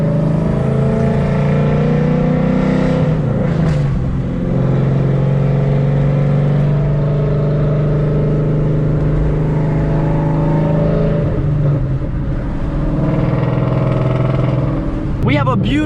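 Ford Coyote V8 in a Mustang idling with a possible misfire, a loud steady low engine drone with slight unevenness, close by, with someone talking over it and a brief rev near the end.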